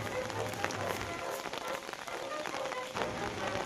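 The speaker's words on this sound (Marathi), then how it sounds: "पाऊस पण जोराचा चालू आहे" Heavy rain hisses steadily, with drops pattering densely on nearby surfaces; the noise stays constant throughout.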